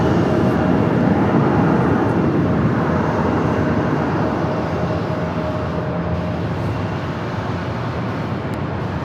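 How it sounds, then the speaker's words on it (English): A passenger airplane passes low overhead on approach to land at Phoenix airport, a loud sustained engine roar holding steady and easing only slightly across the whole span. "We have a flight flying directly right over us to your left."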